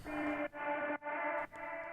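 A friend's sampled singing voice, processed with heavy effects, sustains bright harmonic tones in four phrases separated by short gaps, loud and alone.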